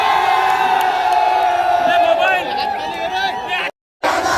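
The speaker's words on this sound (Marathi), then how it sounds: "या लढतीत महेंद्र दळवी यांच्याकडे विजयी कल दिसताच कार्यकर्त्यांनी जल्लोष केलाय।" Party workers in Alibag cheer Mahendra Dalvi's election victory: a loud, close crowd of shouting, whooping voices that rises and falls, then cuts out briefly before resuming.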